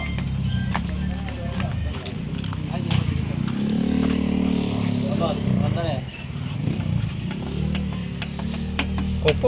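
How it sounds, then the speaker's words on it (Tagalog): A 6te1 engine being tuned up after a knocking sound at the air cleaner, its exhaust running loud and steady with a rough, throbbing rumble, while people talk close by over it. "Napakatindi ng exhaust na yan."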